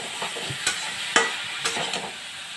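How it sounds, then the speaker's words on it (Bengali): Cauliflower, potato and peas sauté with spices in a pan, a close frying sizzle with a few distinct spatula scrapes and knocks as the vegetables are stirred, with no voices. "মশলা দিয়ে ফুলকপি আলু মটরটাকে আমি ভালো করে কষিয়ে নিই।"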